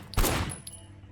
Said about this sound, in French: je tire sur les pneus là